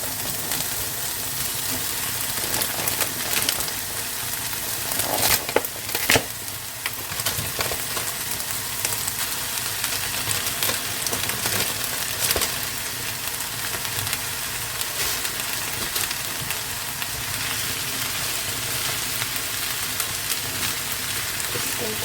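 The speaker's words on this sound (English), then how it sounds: "fry this until it's cooked" Ground beef for Thai-style larb fries in a pan with a steady, loud, dense sizzle throughout, broken by a few stirring scrapes.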